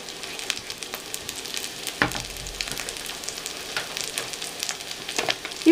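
Onion softening in a pan with mint added, frying with a steady, fine crackling sizzle throughout, plus occasional louder pops and a brief stir near the middle; no voices.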